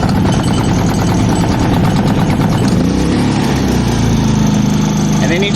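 A Predator 3500 generator engine fires up on its electric starter and runs loudly and close, a dense steady engine roar with a shifting rhythm as it settles.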